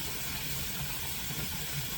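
A pressure canner on medium heat vents a moderate, steady hiss of steam, faint and unbroken for the short stretch, with no talk and a low background rumble underneath.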